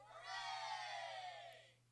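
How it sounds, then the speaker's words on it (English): A short burst of crowd cheering and whooping swells, holds steady for over a second and fades, sounding like a canned sound effect laid over otherwise quiet background. "Some cheering, please."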